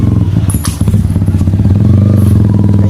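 A Yamaha R15M motorcycle fitted with a Yoshimura Alpha canister exhaust revs close up, its loud, throaty pulsing engine note rising and holding, with a brief clatter early on.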